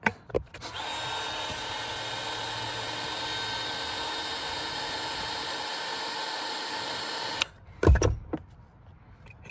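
Heat gun warming the camera lens area of an iPhone 16 Pro during a repair, a steady close blowing hiss holding for about seven seconds before cutting off, followed by a few handling clunks.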